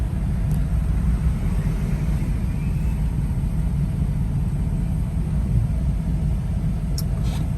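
A 1973 Dodge Challenger drives along, its engine and road noise forming a steady, loud low rumble that holds unbroken throughout with no talking.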